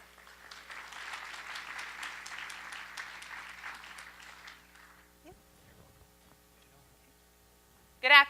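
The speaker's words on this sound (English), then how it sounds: "Let's hear it for Ashley." An audience claps for a presenter at a credit union executive competition in a hall, a steady wash of applause lasting about five seconds before fading out.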